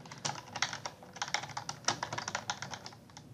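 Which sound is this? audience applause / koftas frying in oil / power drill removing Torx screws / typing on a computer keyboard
typing on a computer keyboard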